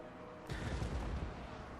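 Dwarf organ guns open fire in Total War: Warhammer 2, a sudden muffled burst of rumbling booms after a quiet moment, fairly faint and distant, trailing into a low roll.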